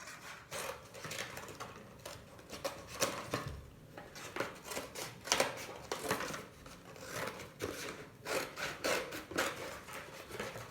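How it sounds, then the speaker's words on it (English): Scissors cutting the flaps off a LaCroix cardboard box, giving repeated close, scraping snips and rasps at an uneven pace, with no talking. "So again, I'm going to cut these flaps off."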